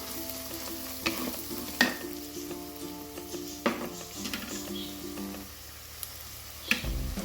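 Sugar frying in a clay pot for mutton curry, a quiet steady sizzle with a few sharp stirring knocks against the pot.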